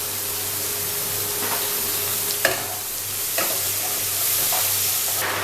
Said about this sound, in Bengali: ফোড়নটা আমার এসে গেছে, তার মধ্যে আমি দিয়ে দেব কুচনো পেঁয়াজ